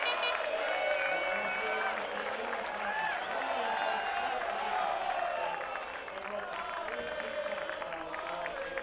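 Large crowd at the 2017 British MotoGP Grand Prix at Silverstone, with fans on the track and flares lit, roaring and applauding in a steady, dense wash that stays loud throughout and dips slightly near the end.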